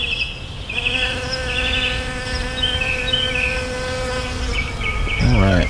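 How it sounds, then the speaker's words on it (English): Bees buzz close to the microphone in a steady, loud drone with shifting pitch as individual insects move nearby, and a brief rising whine near the end. "You can pick up the bees buzzing with it."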